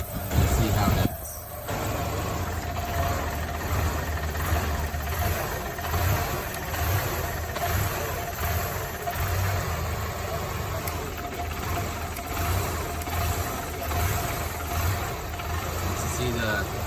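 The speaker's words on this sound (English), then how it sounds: "the idling motor does not like being exposed to EGR gas" Car engine idling roughly as vacuum opens its EGR valve, a steady close mechanical hum with uneven knocking pulses, a brief dropout early on, and someone talking over it.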